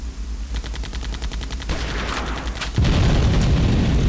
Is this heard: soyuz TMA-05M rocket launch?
no